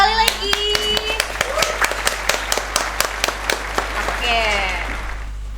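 An audience at an Indonesian podcast recording claps together in a brisk burst of many sharp, closely spaced hand claps lasting several seconds, with a brief spoken word over it.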